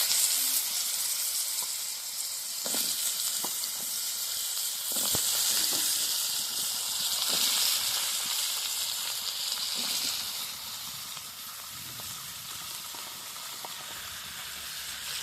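Soybean chunks fry in a pan over a wood fire in a village kitchen. A soft, steady sizzle and hiss runs throughout, with a few light stirring clicks and no talking.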